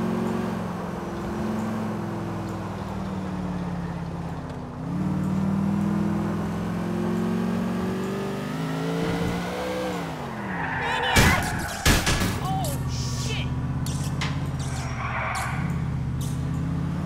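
Car in Grand Theft Auto IV driving and revving with a steady engine drone that rises and falls, followed by sharp tire squeals and skidding, with voices talking over the top.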